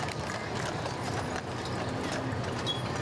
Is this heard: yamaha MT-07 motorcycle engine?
no